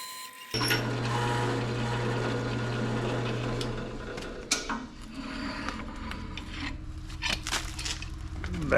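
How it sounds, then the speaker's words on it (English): A power drill bores through stacked steel feeder brackets, its steady motor whine starting abruptly and holding for several seconds before giving way to scraping and clinking of metal being handled nearby. "I just laid it out and then I just drilled through that hole."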